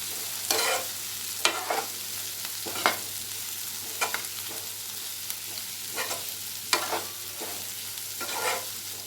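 Onions frying over a medium flame for a bitter gourd fry, a soft steady sizzle broken by regular scraping stirs of a spoon in the pan, close and alone.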